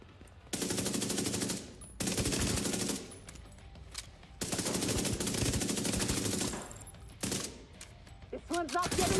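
Automatic AUG rifle fire in the video game The Division comes as three long sustained bursts separated by short pauses, loud and close, with a brief mechanical reload clatter near the end.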